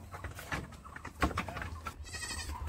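A goat bleats a few times, fairly close, during Bohag Bihu celebrations, over a low steady hum and some background murmur.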